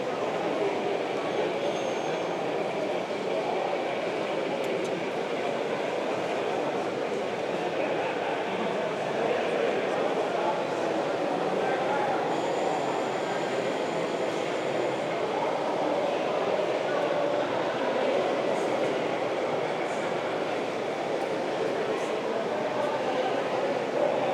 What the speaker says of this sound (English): this is their O gauge layout